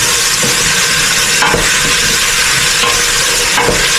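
Chicken sautéing in a hot pan, steady loud sizzle and hiss with a few scraping stirs of the spatula, close and continuous, no talking.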